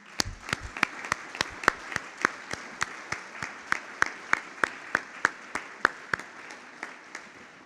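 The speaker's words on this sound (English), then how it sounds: "I wish just we give again a good clap" An assembly audience claps for Sister Bernadette in a slow, steady rhythm of sharp, evenly spaced claps, about three per second, in a reverberant hall that fade a little toward the end.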